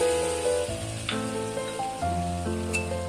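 Mutton and potato curry sizzles steadily in a pot as it is stirred, a soft, even frying hiss with faint scraping and light clinks, close and fairly quiet.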